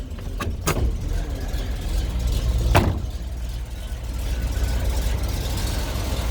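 A 1988 Chevrolet ramp truck with a carbureted big block engine and an Edelbrock carburetor idles with a steady, low, close rumble, with a couple of brief sharp knocks near the start.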